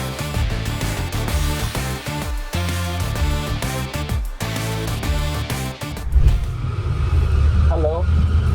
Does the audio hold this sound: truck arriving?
yes